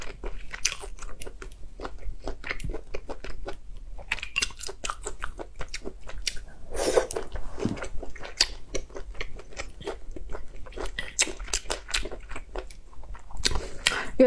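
Close, crisp crunchy bites and chewing of food flavoured with soy sauce, with repeated snaps and moist mastication sounds in an irregular rhythm throughout.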